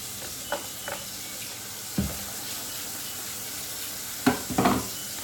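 Pet food bowls being sanitized at a sink, a steady wash of running water with a few sharp clinks and knocks of the bowls, grouped near the end.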